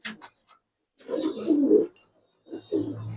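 Giribaz pigeons at a fancy pigeon farm coo close by in a few short bursts: a quick opening call, then a longer throaty coo and a final rolling one, with silence between.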